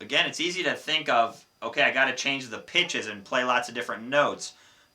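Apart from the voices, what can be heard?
None of the usual background noises is heard.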